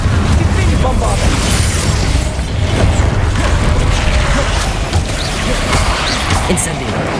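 Bombarda spell explosions burst in Hogwarts Legacy, with loud booming blasts and rumbling debris over a dense, busy layer of game effects and a constant low roar throughout.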